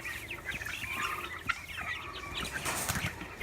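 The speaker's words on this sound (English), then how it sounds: "Chickens living as chickens." Backyard garden chickens clucking close by, a busy overlapping chorus of soft clucks and short calls, fairly quiet, with no talking.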